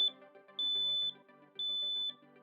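A home smoke detector sounds its alarm, a piercing high electronic beep repeating in long even tones with short gaps, clear and alone.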